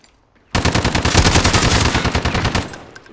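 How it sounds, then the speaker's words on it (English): Rapid automatic gunfire in the video game Warzone, a loud sustained burst of fast shots starting abruptly after a brief silence and continuing to the end. "He shot at me."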